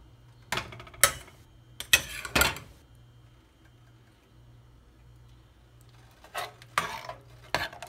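A spoon scrapes and clinks against a metal pot of jaggery syrup in short bursts while making ada pradhaman payasam, with quiet pauses between, close by.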